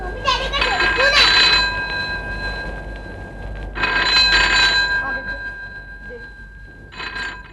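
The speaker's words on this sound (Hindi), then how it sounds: "मम्मी डैडी का टेलीफोन है।" A landline telephone rings at home in an Indian telefilm scene, sounding as three bursts of bright electronic trilling separated by pauses, with voices murmuring underneath.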